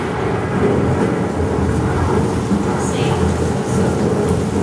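Heavy rain pours down with thunderstorm rumble in the Carousel of Progress stage show, a loud, dense and continuous wash of noise that holds steady throughout.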